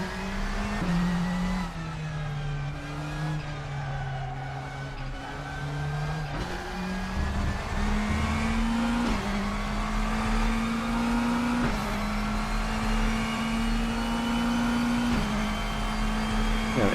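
A McLaren 720 race car engine in the RaceRoom racing game runs steadily throughout, its pitch climbing and dropping with repeated gear shifts as it accelerates, loud and continuous with no talk over it.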